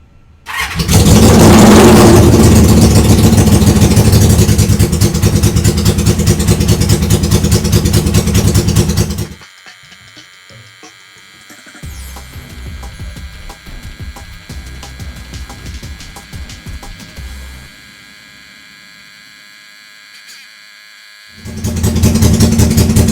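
A 1973 Honda CB350F motorcycle engine starts and runs loudly for about nine seconds, then quieter mechanical clatter and idling follow before the loud running returns at the end.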